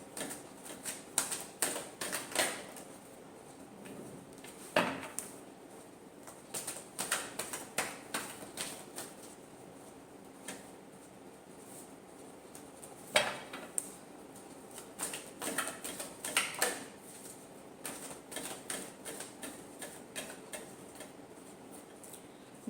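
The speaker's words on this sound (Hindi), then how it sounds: "Last shuffle." Tarot cards being shuffled by hand, giving bursts of quick, crisp ticking riffles and patters that come in clusters with short pauses between them, close and fairly quiet, with no talking.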